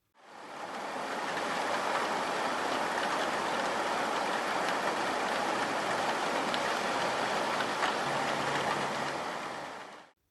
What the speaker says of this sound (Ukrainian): Під час зливи ми чуємо монотонний одноманітний шум.